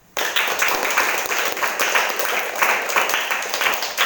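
Audience applause at a karate association gathering in West Sumatra: dense, steady clapping starts abruptly and keeps going at full strength to the end.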